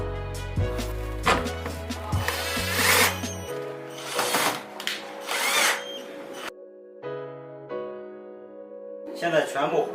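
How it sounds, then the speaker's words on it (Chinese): A power drill drives screws to fix the head of a floor-standing air conditioner unit, giving several short whirring bursts of varying length with pauses and clattering handling noises between them. "固定好机头螺丝。"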